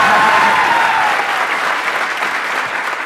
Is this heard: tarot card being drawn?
no